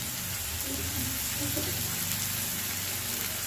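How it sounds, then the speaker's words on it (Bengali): Onions with a little salt fry in a pan, giving a continuous broadband sizzle that stays steady throughout, with faint background sounds beneath. "পেঁয়াজটা প্রথমে ভালো করে ফ্রাই করে নিচ্ছি"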